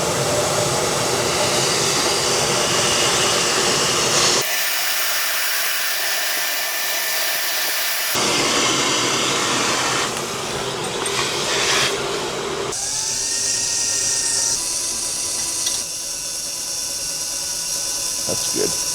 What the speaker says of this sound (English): let's just drill it there